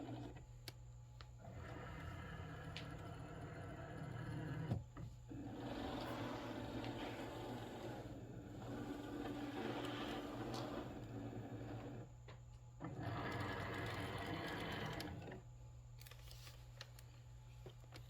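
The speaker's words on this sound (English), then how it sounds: "we will feed it into the Cricut, hit the load button" A Cricut cutting machine draws a blue cutting mat loaded with paper into place for print-then-cut calibration, giving close, steady mechanical whirring in several long bursts separated by brief pauses, with no talking.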